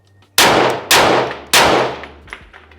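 A KRISS Vector gun fires three loud, sharp shots close by, each with a ringing metallic tail, spaced about half a second apart, followed by fainter clinks.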